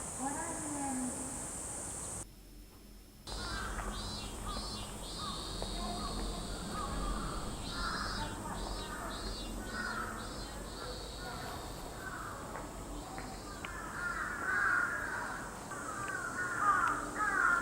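Several crows caw in repeated harsh bursts in Tokyo, at moderate distance over steady outdoor background noise.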